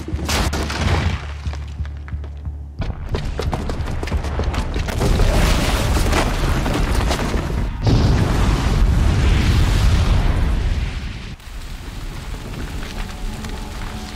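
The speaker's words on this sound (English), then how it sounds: "the booby trap on the bomb downstairs is gonna get set off" A bomb rigged with a booby trap goes off in Horizon Zero Dawn, a loud sustained roar of blast and rumbling debris filling most of the stretch, with heavy low-end weight and crackling noise throughout.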